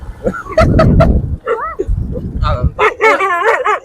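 A dog yips and barks in a few sharp bursts at moderate distance on a street outing, overlapping with people talking nearby.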